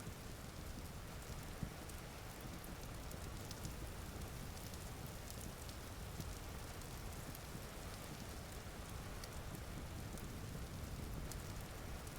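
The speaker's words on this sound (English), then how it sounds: "Now it's raining more." Steady, even rain falls in the survival video game Vintage Story as a soft, constant hiss of drops pattering on surfaces for the whole stretch, with no voices.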